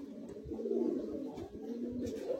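Madrasi high flying pigeons coo repeatedly inside a loft, a dense, overlapping low murmur of calls close by, with soft rustling and no talk.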